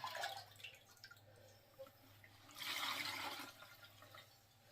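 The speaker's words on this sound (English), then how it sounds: "I'm just going to pour it directly into the nut bag and let it get out the small pieces." Homemade broth poured through a nut bag for straining before canning, a soft trickling and splashing of liquid that swells into a steadier pour, faint and close with no talking.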